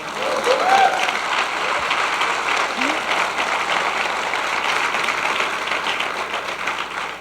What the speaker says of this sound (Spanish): Un aplauso a los papás